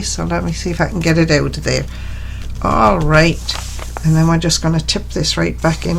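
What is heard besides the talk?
No everyday noises stand out.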